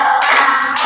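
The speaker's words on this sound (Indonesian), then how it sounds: "Tepuk 3." A group claps hands together in a rhythmic pattern during a classroom activity on pattern recognition, with a few loud, broad bursts of clapping close by and no talk.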